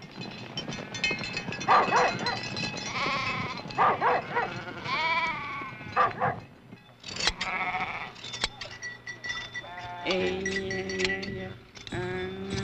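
Sheep on a Navajo herding range bleat repeatedly, several wavering calls overlapping at varied distances, loud and clear, with other livestock sounds mixed in and no talk.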